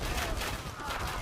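Organ guns firing in the Age of Empires II strategy game, a dense crackling volley of overlapping gunshots that roars steadily throughout without a pause.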